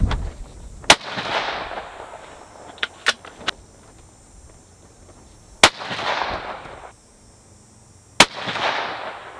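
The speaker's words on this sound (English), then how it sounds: "Let's shoot another 3-round group and see what happens." Rifle shots from a gun fitted with an EC Tuner muzzle brake, several sharp, loud reports spaced apart, each followed by a brief ringing decay outdoors.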